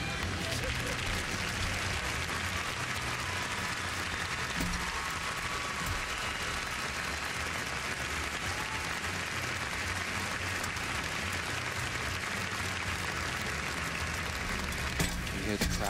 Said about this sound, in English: You hear the crowd there applauding Rebecca being taken off the podium